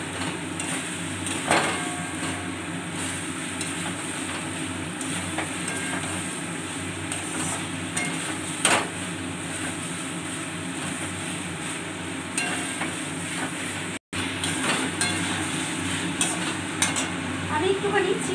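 Fried chicken pieces are stirred in a pan for chilli chicken, with a constant loud sizzle under repeated scraping and clanking of the spatula.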